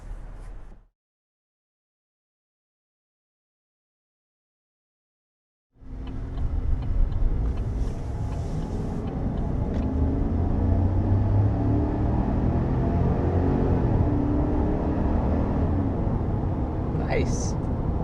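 A 2022 Chevy Silverado 1500 Trail Boss pulls hard toward 60 mph, a steady, loud engine and road rumble swelling after a brief silence, with a voice speaking over it.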